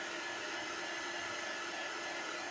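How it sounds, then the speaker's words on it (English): A hair dryer blows a steady, loud whoosh without a break, drying craft bunny faces on a sticky mat, with no talking over it. "When you're drying on one of these sticky mats, keep your dryer going because it'll warp your mat if you get it too hot."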